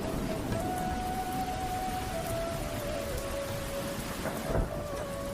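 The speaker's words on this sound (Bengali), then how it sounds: "আরিয়ান, তুই বৃষ্টির মধ্যে বাইরে শুয়ে আছিস কেন রে?" Steady heavy rain pours in an animated Bengali fairy-tale cartoon, with a low rumble of thunder and a faint sustained tone beneath, continuous throughout.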